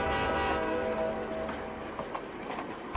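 A train rumbles steadily through dense forest, its broad, continuous roar holding near and loud with faint rhythmic knocks throughout.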